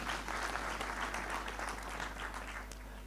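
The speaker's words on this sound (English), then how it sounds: "Please, let's give him a round of applause." An audience at a regional education forum in Nairobi applauds, steady sustained clapping from a crowd in a hall with a low electrical hum underneath.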